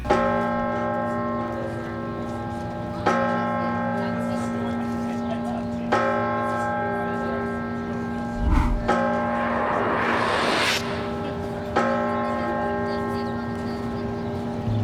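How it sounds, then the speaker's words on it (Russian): A church bell in a Philadelphia square strikes the hour, five slow, evenly spaced times, each stroke leaving a long humming ring; a brief whoosh passes partway through. "звон на этой площади слышен каждый час."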